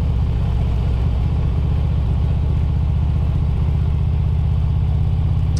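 The engine of a 2016 Harley-Davidson Road Glide Special rumbles loud and close in a steady, throbbing low note with fine rhythmic pulsing while riding, though no distinct gear change stands out.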